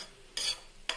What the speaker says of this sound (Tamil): இப்போ எல்லாம் நல்லா மிக்ஸ் பண்ணி விடுக்கிறோம்.